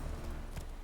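Horse hooves clip-clop in The Witcher 3 video game, a short run of soft, steady footfalls under a low, constant game soundscape.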